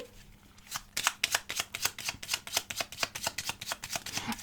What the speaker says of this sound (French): On va mélanger les runes.